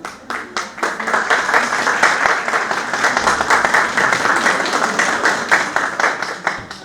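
A crowd at a village school's national flag-day celebration in Çajlë applauds steadily as a gift wrapped in the national flag is presented to the principal, the clapping dense and sustained for the whole stretch.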